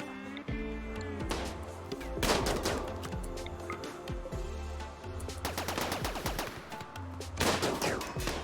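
Rapid bursts of automatic gunfire from a RimWorld colony firefight, loud and dense with overlapping shots and short pauses between volleys, music-like tones underneath.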